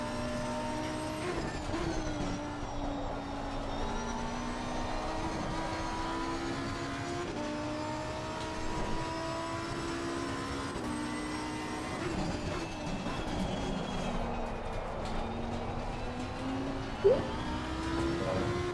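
A race car in the racing game Live for Speed brakes and then accelerates hard around Oulton Park, its engine note falling and then climbing steadily through the gears, loud and continuous, with no voices.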